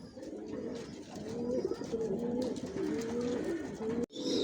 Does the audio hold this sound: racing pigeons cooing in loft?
yes